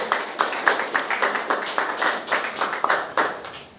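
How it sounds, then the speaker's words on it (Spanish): A church congregation claps in praise during a sermon, a steady crowd of hand claps with distinct rhythmic bursts, fairly close and lively, with no speech over it. "¿Cuántos aplauden al Señor?"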